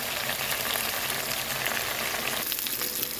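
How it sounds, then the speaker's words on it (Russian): Potatoes fry in an old cast-iron pan with a steady, dense sizzle that crackles close and loud, holding even throughout with no voices. "Ну вот уже поджаривается наша картошечка."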